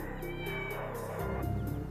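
A cat meows under a dense, continuous wash of background sound that runs through the whole moment.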